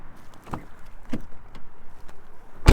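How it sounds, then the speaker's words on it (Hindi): A car's back-seat door opens and closes as a horror story sound effect: two soft, separate clunks, then one loud, sharp slam at the very end. Quiet background hum fills the gaps. "पीछे की सीट से दरवाजा खुलने और बंद होने की आवाज आई"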